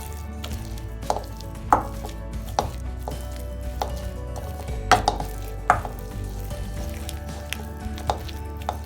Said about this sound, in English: take a stone like this and mash this entire leaf